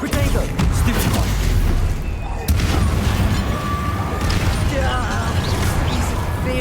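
Spell blasts and explosive impacts from Hogwarts Legacy combat, Confringo and Depulso among them, a dense, loud barrage of booms and crackling bursts that barely lets up, with a player's voice calling out incantations over it.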